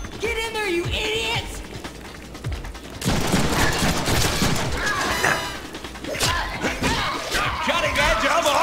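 Gunfire from the Deadpool video game erupts in busy bursts amid action noise, with a voice talking over parts of the fight.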